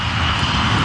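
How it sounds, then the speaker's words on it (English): Airliner engines roar at high power as the plane pulls up during a missed approach at New York, a dense, steady loud drone with no voices. "The operation of pulling the plane up in the missed approach was a very violent one."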